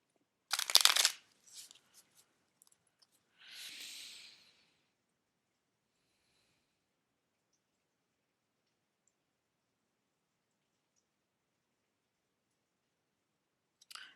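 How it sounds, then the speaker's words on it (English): A tarot deck shuffled by hand during a reading: one loud riffling burst near the start, then a few soft card clicks and a brief papery swish, followed by long near-silence. "Okay, just one more shuffle."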